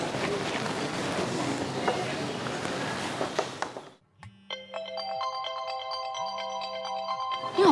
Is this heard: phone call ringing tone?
yes